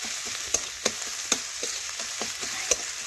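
Spices with Kashmiri chilli powder fry in oil in a pan as they are stirred together, giving sharp spoon taps and scrapes at irregular intervals over a quiet, low sizzle.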